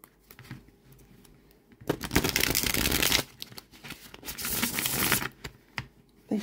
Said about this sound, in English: They shuffle really, really well.